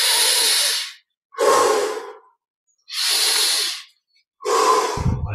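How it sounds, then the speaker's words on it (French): Slow, deep breaths during a guided meditation, with long airy exhales through the mouth. Four drawn-out breaths come close and clear, separated by short pauses of silence. "Expire par la bouche."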